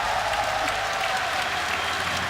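Live crowd at a game reveal event applauding and cheering, dense continuous clapping that stays loud and steady from start to finish.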